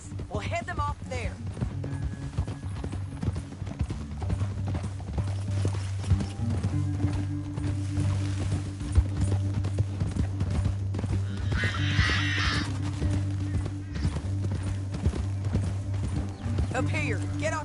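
Horses ridden across a canyon in Red Dead Redemption 2, with continuous clip-clop hooves and an occasional whinny under a low steady hum and game music, while voices talk over it.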